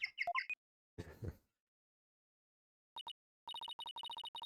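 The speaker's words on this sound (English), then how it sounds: "That's my ringtone." A video game phone ringtone plays as a rapid series of bright electronic beeping bursts, preceded by short chirpy blips and a soft thud, with no voices.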